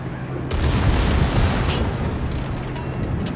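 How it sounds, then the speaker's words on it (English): Heavy naval gunfire hits and explosions from the World of Warships video game, with a North Carolina battleship shell slamming into an enemy ship: a loud, booming broadband blast with a rumbling tail that fades but stays dense. "Scarecrow taking a massive hit from the North Carolina"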